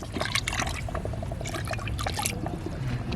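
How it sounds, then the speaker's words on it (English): Water is poured from a bucket into a pot of red millet porridge, giving a steady gurgling splash and trickle with some dripping, close and continuous. "so water from the bucket has been added"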